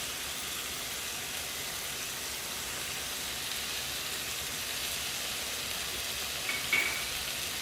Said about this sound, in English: I put the oil in the pan and I've added my chicken breasts in